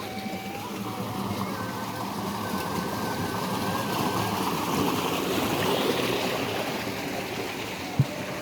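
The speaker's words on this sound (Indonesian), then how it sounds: "di payunan bumi teh cai ngalirnya sungai-sungai kecil, susukan-susukan" A small village stream flows past homes, making a steady broadband rush of water that stays even throughout, with one brief knock near the end.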